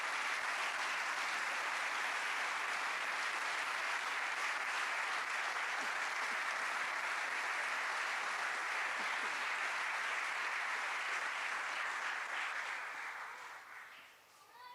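A church congregation gives the Lord an offering of applause, loud, dense clapping held steady for many seconds before tapering off at the very end.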